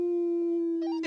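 Luna, a dog, lets out a long sustained howl, a steady pure tone held for about a second before breaking into a rougher, wavering finish, close and loud with no talking.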